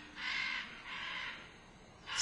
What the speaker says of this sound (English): As they fly, their distinctive caws rise above all the other noises of the forest.